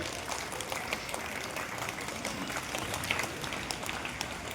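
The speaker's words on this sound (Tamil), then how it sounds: "அவருக்கு ஒரு பெரிய கைத்தட்டல்." A crowd at the inauguration of an RO water purification system claps for the big donors. The clapping is steady and moderately loud, a spread-out patter that lasts the whole stretch with no voices over it.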